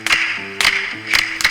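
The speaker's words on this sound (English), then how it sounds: "And this is clappy, clappy, clap, clap." Sharp handclaps from a jazz recording ring out in an irregular pattern of close, crisp claps over sustained low piano or bass notes.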